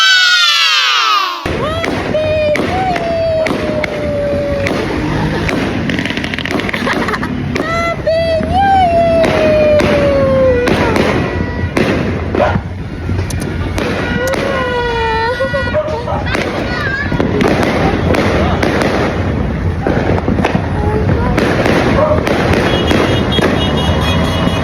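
New Year's Eve fireworks burst outdoors in a steady run of booms and crackles, with a crowd cheering and children shouting throughout.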